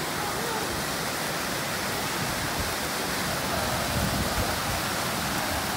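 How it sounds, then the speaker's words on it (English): Steady rushing water pours continuously, a dense even roar from a nearby waterfall at Magic Kingdom, Walt Disney World, with no breaks. "you can see the waterfall as we go by"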